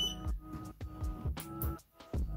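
A timer beeps during a facial treatment session, a series of short, evenly repeated electronic beeps heard close and fairly quiet with no talking.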